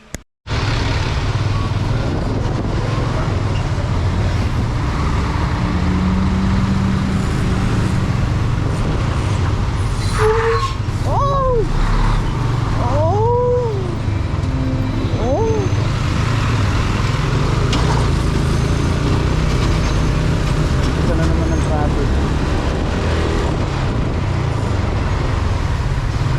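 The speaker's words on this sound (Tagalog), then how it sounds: "Dito lagi tambakan traffic." Congested road traffic in a jam produces a loud, steady roar of engines and tyres that runs throughout. Several rising and falling brake squeals stand out briefly near the middle.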